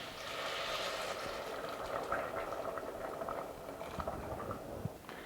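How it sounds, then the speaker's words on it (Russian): Hot water poured into a pan of lightly fried pumpkin, carrot and potato soup vegetables, a steady sizzling, bubbling hiss that runs throughout at moderate level with small crackles and pops. "И потом добавляю сюда горячую воду."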